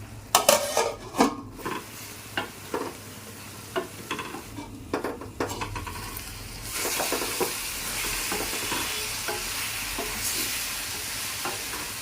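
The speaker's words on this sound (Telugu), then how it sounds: "ఈ ఉల్లి మసాలతో దొండకాయలు కూడా బాగా వేగాలి" Ivy gourds frying in onion masala in a pan, a spoon scraping and knocking against the pan in uneven strokes, then a steady, close sizzle takes over for the second half.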